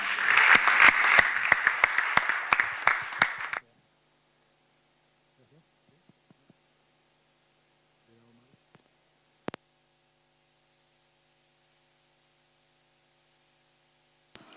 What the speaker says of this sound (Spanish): Un aplauso para Andreu y empezamos